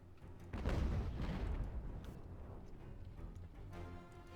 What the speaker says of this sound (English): we'll let the artillery do its thing